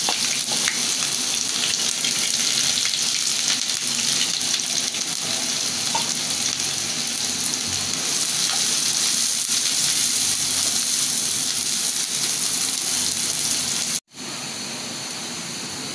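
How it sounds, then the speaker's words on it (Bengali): Onions hitting hot oil in a pan give a steady, loud, broadband sizzle that runs for most of the clip. It drops sharply near the end and then carries on a little quieter, with no voices. "আমার তেল গরম হয়ে গেছে, এখন পেঁয়াজটা দিয়ে দিই"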